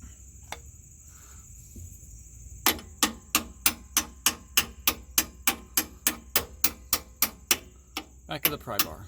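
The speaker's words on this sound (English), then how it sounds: "Hammer it through, something like that." A steady run of sharp metallic hammer strikes, about two per second, driving a bolt through a rear upper control arm on a Toyota 4Runner, ringing close by with a high tone after a quiet start.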